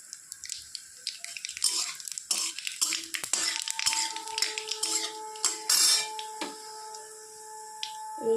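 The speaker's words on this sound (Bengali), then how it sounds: "তেল গরম হয়ে গেছে, দিয়ে দিচ্ছি শুকনো লঙ্কা," Dried chillies and black cumin frying in hot mustard oil for kachu bata, giving a steady crackling sizzle with scattered sharp pops and spits, moderately close and fairly quiet, with no talking.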